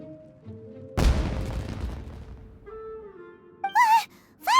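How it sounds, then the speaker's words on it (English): Fireworks burst loudly in a video game: a sharp boom followed by a long crackling, rumbling decay, then two rising whistling squeals near the end, with no speech. "It sounded like fireworks."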